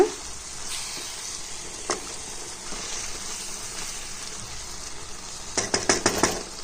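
A pan of dried anchovy curry simmers covered with a steady soft sizzling hiss, and a few quick metallic clinks of a utensil come near the end.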